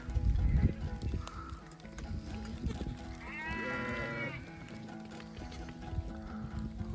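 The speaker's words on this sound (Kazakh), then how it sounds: "Ешкілер бізбен бірге тамақ ішкілер келіп жатыр." A goat lets out a drawn-out, quavering bleat midway through, amid low rumbling and scattered nearby noises.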